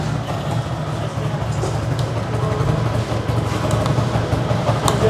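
A restored Suzuki Shogun Pro motorcycle engine running at a steady idle, a continuous low hum with a faint rattling texture, moderately loud and close.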